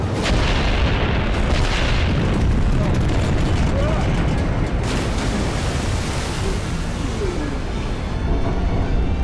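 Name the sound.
explosion from early detonation in an action movie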